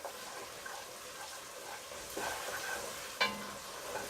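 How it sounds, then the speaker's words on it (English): Chicken leg quarters are stirred in a cooking pot for benachin, giving soft, faint wet scraping and low sizzling with a brief clink near the end, no voices. "And so here I am stirring this up."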